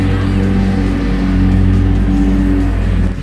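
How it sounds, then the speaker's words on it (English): Garbage truck passing outside, a loud, heavy low engine rumble with droning tones that holds steady for several seconds before easing off slightly at the end. "That's the garbage truck."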